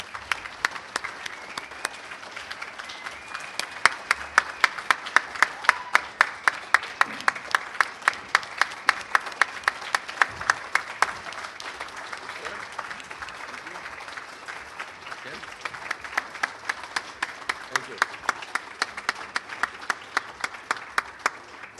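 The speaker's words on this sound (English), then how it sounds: "your first round of applause for Tom Marcucci." Audience applause for a Civic Hall of Fame inductee at a Chamber of Commerce award ceremony, steady clapping from a seated crowd that swells, dips briefly midway, then picks up again with sharp individual claps close by.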